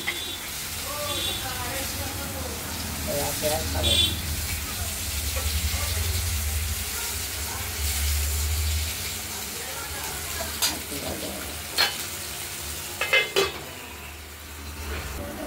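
Pieces of katla fish fry in a pan of hot oil. A steady, soft sizzle runs throughout, with a few sharp clinks of utensils against the pan near the end.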